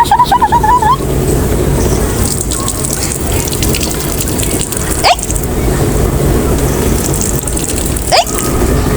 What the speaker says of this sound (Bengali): জল পড়ছে, জল পড়ার শব্দ হচ্ছে